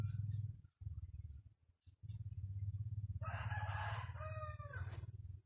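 A native Bisaya chicken gives a short run of loud, close calls over a steady low background hum, with quieter stretches before the calls begin.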